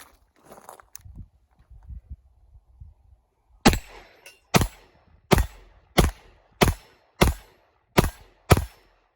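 A CZ75 pistol fires about eight sharp, loud shots at a steady, fairly quick pace after some quieter handling noises and a magazine being loaded.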